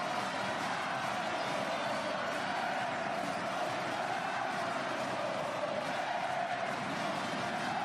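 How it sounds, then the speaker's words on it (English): A packed arena crowd roars steadily at a Fenerbahçe women's basketball final, a dense, continuous wall of cheering and noise with no clear breaks. "Listen to the crowd. What an atmosphere we have for a final."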